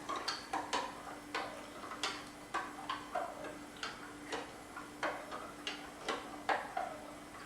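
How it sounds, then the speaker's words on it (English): A spoon stirs sugar into about 12 cups of tea for kombucha. It clinks against the vessel in a steady run of sharp, close ticks and taps, with no talking. "Stir it to dissolve the sugar."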